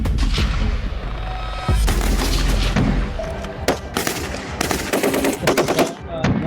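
Soldiers fire rifles at an army firing range near the Line of Control in India, producing loud, overlapping volleys of sharp shots and rapid bursts that crack close by and echo.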